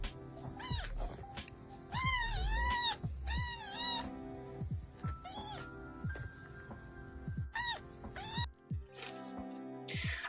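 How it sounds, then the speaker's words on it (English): A cat meows repeatedly, with several drawn-out, rising and falling meows and a few short yowls spread across a quiet room, fairly close and clear, with no talking. "Silly kitty."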